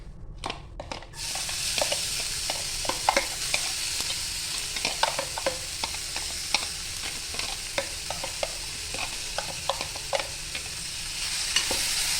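Chopped vegetables fry with cumin in a pan, giving a steady close sizzle while a utensil stirs and scrapes against the pan in regular taps and clicks throughout.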